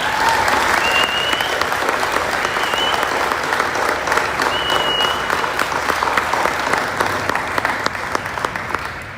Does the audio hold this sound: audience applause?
yes